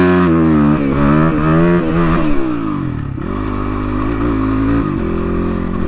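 A fat-tyred dirt bike rides over a rough, potholed, slippery road, its engine droning loudly and steadily with rising and falling revs and occasional clattering bumps, close up throughout.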